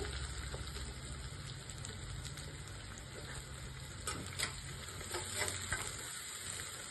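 Chopped onions and green chillies fry in a pan for a raw prawn and mango curry, giving a soft, steady sizzle with scattered faint crackles throughout, fairly quiet and with no talking.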